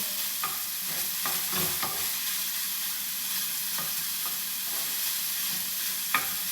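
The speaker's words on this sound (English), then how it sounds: "I'm just going to let that kind of warm those vegetables up a little bit." Vegetables for taco soup warm in a pot over low heat, a steady bright sizzling hiss running throughout, with scattered soft stirring clicks and one sharper tap near the end, close and without speech.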